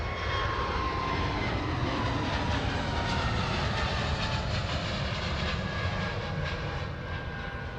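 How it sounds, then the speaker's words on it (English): A British Airways Airbus A321neo airliner takes off and climbs out steeply from Manchester Airport, a loud, sustained engine roar with heavy low rumble and a rising whine, fading slightly near the end. "a steep climb out there from the BA A321neo, taking passengers back down to London Heathrow"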